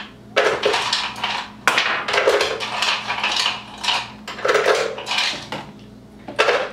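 Ice cubes clatter and rattle loudly into a blender jar for a key lime smoothie, arriving in several bursty pours with short pauses between them.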